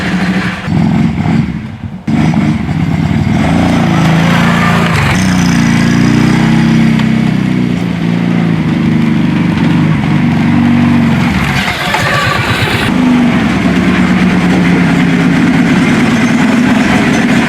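Kawasaki Prairie 700 ATV engine running again after sitting for 17 years: a loud, steady close-up rumble at idle after a short sputter at the start, with small shifts in revs and no talking.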